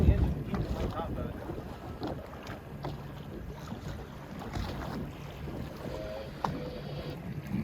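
Outboard engine on a fishing boat in the Gulf off Alabama, holding position over a red snapper spot; a low steady motor rumble sits under wind buffeting the microphone and water slapping the hull, with no voices.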